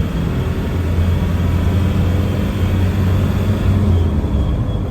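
A 1993 Land Rover Defender 110 with the 200Tdi diesel engine cruises along steadily. A loud, low engine drone blends with wind and tire roar, and no voices come through.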